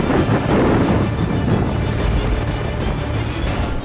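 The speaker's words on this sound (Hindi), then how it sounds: "ऐसे में हवाएं तेज होनी शुरू हो चुकी हैं, समंदर में लहरें अब तेज हो रही हैं" Strong gusting wind batters the microphone on the Gujarat coast ahead of Cyclone Biparjoy's landfall, a loud broadband roar with rough surf underneath, steady and without speech.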